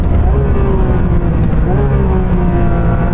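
A Porsche GT3 RS with a racing kit roars loudly and continuously while being driven flat out on a race track, heard from inside with a sustained engine note that rises and falls slightly.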